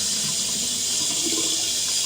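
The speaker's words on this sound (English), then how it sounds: "So I'm just going to run some cold water from the tap" Cold water runs from a tap into a bowl of apples, a continuous, steady rush and splash for the whole stretch, with no voices.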